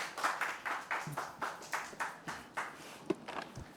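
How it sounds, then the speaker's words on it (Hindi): Hands clap at an irregular pace in a small indoor gathering in Bihar, with roughly a dozen distinct, close claps over a few seconds rather than a full roaring applause. "इसके लिए तालियां।"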